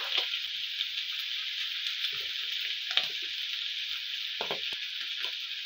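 Onions, carrots and pepper frying in a pan for spring rolls, a steady bright sizzle throughout with a few soft stirring taps and scrapes underneath, close and even, no talking.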